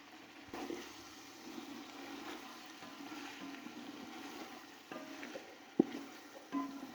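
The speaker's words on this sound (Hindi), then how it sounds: "6 प्यालियाँ मैंने पानी की ली हैं, वो हम इसके अंदर डाल देंगे" Six cups of water poured into a pot of rice for cooking fried rice: a faint, steady rush of pouring water with a few soft clinks near the end.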